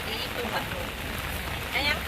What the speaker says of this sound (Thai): ใช่แบบฝนตกๆ นี่แหละพี่น้อง